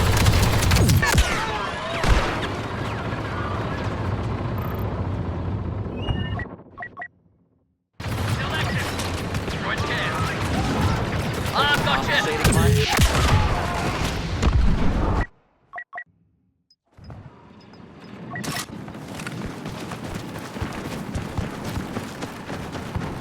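Star Wars Battlefront II (2017) battle on Kamino: dense, continuous blaster fire and booming explosions with game voice callouts mixed in, loud throughout, broken by two brief near-silent gaps.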